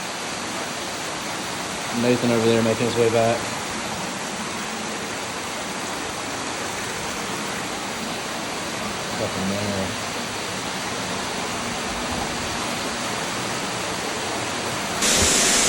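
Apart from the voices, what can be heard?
waterfall in a river cave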